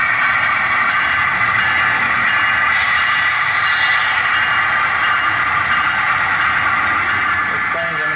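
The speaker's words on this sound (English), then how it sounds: "this is actually the second time I'm running the FEC motors on this layout" Model train with FEC locomotives running along ballasted layout track, a steady rumbling roll with a continuous mechanical hum and someone talking over it.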